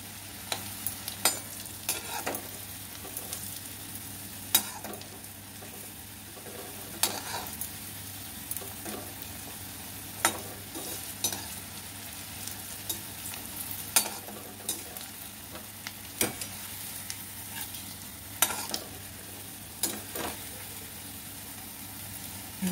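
Jackfruit kofta balls frying in hot oil give a steady soft sizzle, broken by sharp clicks and spatters from stirring and turning every few seconds, with no voices.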